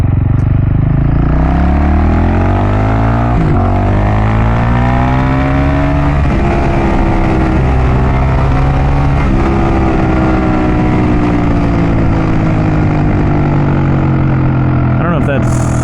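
A supermoto motorcycle on a first ride, its engine droning steadily with pitch rising and falling through gear changes and throttle shifts, close and loud throughout, with a voice talking over it.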